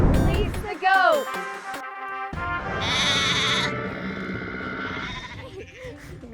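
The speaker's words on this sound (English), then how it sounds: "Release the goat!" A farm goat bleats several times in short wavering calls, close by, with people's voices around it while it is offered a pumpkin and a bagel as snacks.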